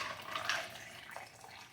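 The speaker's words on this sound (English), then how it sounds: "I'm gonna pour this in and you get to see the really cool color" Purple tea poured into a mug of ice, a soft steady liquid splash close by with a brighter gurgle partway through, lasting under two seconds with no talking.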